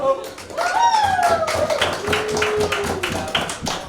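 Audience applause after a stand-up comedy set in Richmond, Virginia: dense, steady clapping from a live crowd continues under a host's amplified voice, with some whistles rising over the claps.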